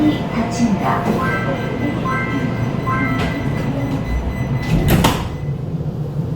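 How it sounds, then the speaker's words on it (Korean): GTX-A express train pulling away from the platform at Dongtan Station in a deep underground line, a heavy steady rumble of motor drive with rail noise beneath a faint voice. "열차는 묵직한 구동음을 내며 천천히 동탄역 승강장을 출발합니다"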